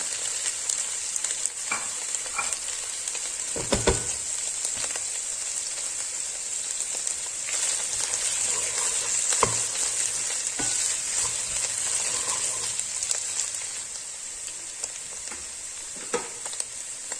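Vegetables sizzle and crackle steadily in a hot pan with pepper paste, with occasional scraping knocks of a spoon stirring them.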